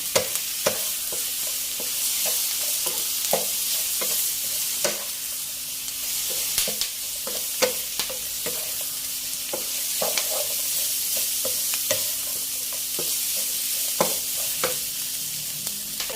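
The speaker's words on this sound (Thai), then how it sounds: "คั่วให้เข้ากันให้หอมนะคะ" Pork belly stir-fried with garlic and Thai herbs in a pan, a steady sizzle with repeated scraping clinks of the spatula against the pan, close and continuous, with no voices.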